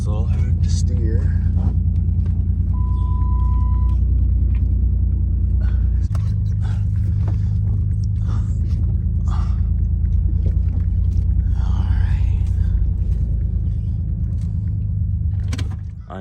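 A Dodge 3.5 V6 runs with no accessory belt fitted, its steady low engine rumble continuing close by for the whole stretch, with a faint tone and small clinks on top and a slight drop in level partway through.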